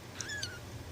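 A one-week-old kitten gives two tiny, thin high-pitched squeaks in quick succession, faint and close over a low background hum.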